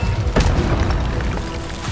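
A fiery spell impact in the Hogwarts Legacy game, a loud, dense blast with a booming low-end whoosh that stays full and roaring for about two seconds.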